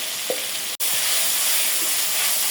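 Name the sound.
spice paste of ginger, garlic and onion frying in a pan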